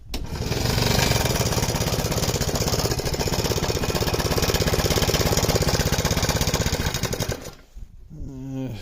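A go-kart's small engine runs roughly at half choke, a loud, dense, rapid pulsing drone that holds steady for several seconds, then stumbles and falters toward the end with uneven, sputtering beats.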